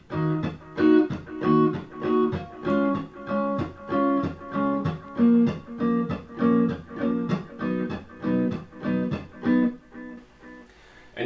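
Guitar playing a chord progression in an offbeat reggae style, short choppy chord stabs in a steady repeating rhythm, close and clear with no talking.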